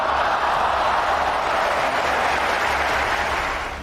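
Stadium spectators at a Euro Cup match in London clap together in a dense, steady wash of applause that carries evenly for several seconds before easing slightly at the end.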